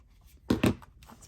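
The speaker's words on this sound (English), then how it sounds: "I'm just going to cut a little slither off." Two quick, crisp snips from a trimmer or scissors cutting a thin strip off paper for a scrapbook page, close and fairly quiet against a still room.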